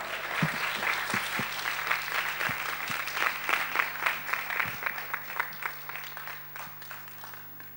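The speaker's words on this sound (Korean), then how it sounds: "우리 큰 환영의 박수로 함께 하겠습니다" Warm applause from a lecture audience welcoming the speakers onto the stage, steady clapping from a moderate crowd that gradually thins and fades out.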